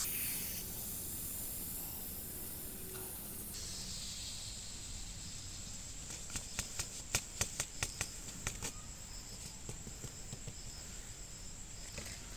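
Amaranth seeds pour steadily into a bowl as a continuous hissing rustle, with a brief cluster of sharper ticks and patters from small seeds striking partway through.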